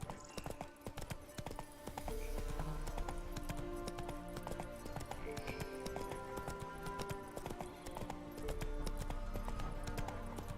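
Roach, a horse in The Witcher 3, gallops with steady rhythmic clip-clop hoofbeats throughout, loud and close, over a quiet game ambience.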